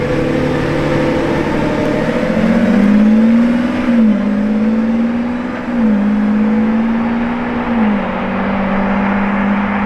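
A new Lamborghini Revuelto on the road gives a steady, loud engine drone with a few rising and falling pitch shifts, like gear changes, over continuous road noise.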